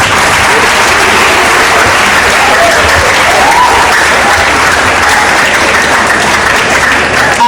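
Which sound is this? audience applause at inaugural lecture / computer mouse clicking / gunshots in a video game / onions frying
audience applause at inaugural lecture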